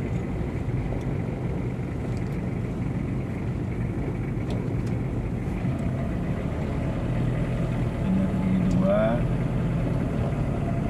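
A Toyota Kijang diesel engine, converted from manual to an automatic clutch transmission, drones steadily from inside the moving car with a low, throaty rumble that swells slightly near the end, while people talk over it.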